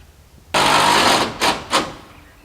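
Cordless power driver runs one long burst then two quick short pulses, driving screws into a wood-stove hearth in a tiny cabin, loud and close with no talk.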